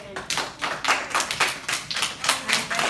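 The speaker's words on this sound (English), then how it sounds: "Round of applause for Mr. Aiden." A small classroom group claps for a student's report, giving roughly a dozen distinct, rhythmic hand claps at moderate volume, fairly close, with no talk over them.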